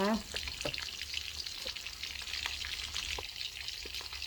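Pork frying in a pan for crispy Thai-style pork, a dense continuous sizzle with scattered scraping and clinks from stirring close by.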